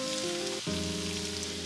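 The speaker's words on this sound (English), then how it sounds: "go ahead and saute my onions, minced garlic, and bell peppers" Onions, minced garlic and bell peppers sautéing in olive oil, a steady close sizzle with a brief break partway through, no voices.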